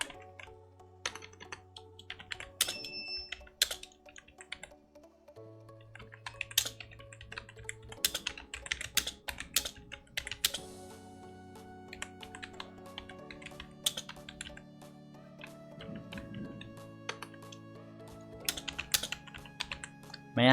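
Rapid typing on a computer keyboard while entering a website-design prompt: clusters of quick, crisp key clicks with short pauses, heard close up over a steady bed of soft background music.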